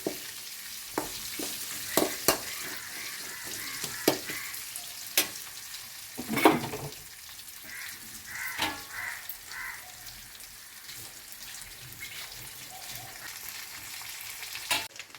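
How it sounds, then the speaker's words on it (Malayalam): Mustard seeds fry in hot oil for tempering a soya chunk curry, giving scattered sharp pops and crackles over a faint, quiet sizzle, with no talk. "കടു വറുത്തത് നല്ലപോലെ മൂത്ത്."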